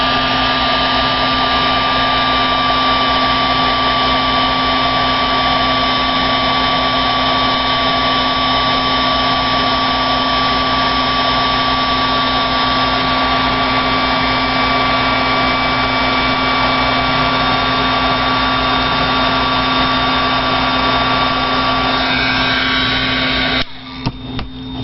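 A heat gun blows steadily up close, melting powder on a skate card, a loud, constant whirring roar with a steady whine that cuts off abruptly near the end.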